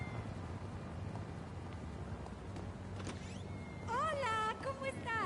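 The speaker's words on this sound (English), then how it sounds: "They stole your damn cat's voice, DC." In-game audio from GTA 5 on PS5 carries a cat's meow, a short rising and falling cry near the end. It sits over steady game ambience and background noise.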